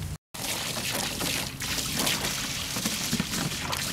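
A garden hose runs water steadily in a broad, continuous pouring rush close by, broken only by a brief dropout near the start.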